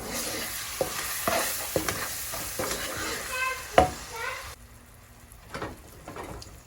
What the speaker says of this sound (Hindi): चलिए अब मैं इसको इसके अंदर मिक्स कर दूंगी सारी स्पाइसेस को, और इसको तकरीबन 30 सेकंड के लिए हिलाऊंगी